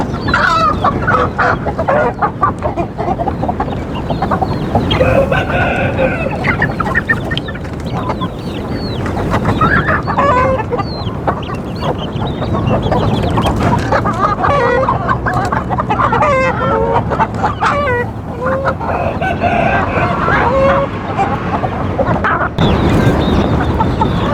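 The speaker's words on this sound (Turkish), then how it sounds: "Kısa ve kesik bir ötüş şekli vardır. Hint horozlarını." Indian game roosters crow in short, clipped bursts amid continuous clucking and cackling from a crowded flock of chickens, loud and close throughout.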